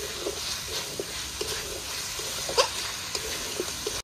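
Desi chicken pieces fry in a pan with a paste of ginger and dried red chilli, giving a moderate continuous sizzle. Faint clinks and stirring are heard over the steady hiss.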